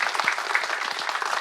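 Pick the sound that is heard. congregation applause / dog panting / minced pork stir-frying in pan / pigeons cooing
congregation applause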